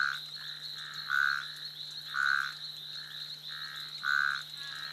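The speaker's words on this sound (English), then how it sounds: "As night comes to the Eastern Arc Mountains, a cacophony of sound fills the forest." Frogs croak at night in the East Usambara forest of Tanzania's Eastern Arc Mountains, with a rhythmic call pulsing about once a second over a constant high insect-like trill and a low steady hum.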